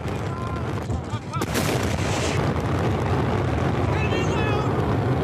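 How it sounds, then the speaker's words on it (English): An Antares freight rocket exploding on launch, heard as a heavy, rumbling roar with a sharp burst partway through, then continuing low thunder, distant and broadband, with a voice talking over it. "An explosion, and the Antares rocket started falling back to Earth."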